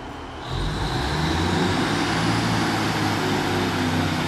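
A train pulling out of Torquay railway station toward Paignton, its engine rumble swelling after a half second and then holding as a loud, steady diesel drone, close by.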